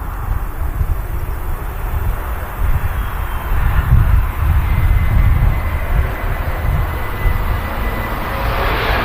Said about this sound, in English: TUI 7-3 touches down.